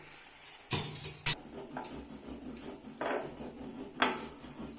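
Ingredients for a tamarind pickle are crushed in a pan over a low flame: two sharp metallic clinks followed by softer scraping and grinding strokes, close and fairly quiet, with no talking.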